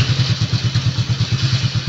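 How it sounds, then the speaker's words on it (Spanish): A Chinese motorcycle fitted with an aftermarket alarm idles right after a remote start, a close, loud, steady rhythmic putter of rapid exhaust pulses with no talking. "y ahí prende la motocicleta."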